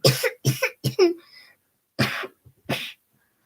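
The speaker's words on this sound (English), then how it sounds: "let's not worry about that cough" A series of sharp, close coughs: three quick ones in a row, a pause, then two more, with faint breathy sounds between.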